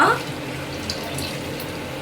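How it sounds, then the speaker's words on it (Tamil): Water poured into a pot of fish curry, a steady liquid pour and splash that starts with a brighter burst and then settles into a continuous, moderately loud wash. "தண்ணி சேர்த்துடலாம்."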